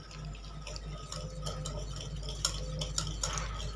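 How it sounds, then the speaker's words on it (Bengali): A hand whisk stirs buttermilk in a bowl with a quick run of light, wet ticks and clinks, close and fairly quiet over a low background hum. "হ্যান্ড উইক্সের সাহায্যে খুব ভালো করে বাটার মিল্কটাকে আমি মিশিয়ে দিচ্ছি।"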